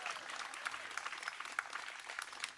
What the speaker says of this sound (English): Let's give Varshanarani a big round of applause.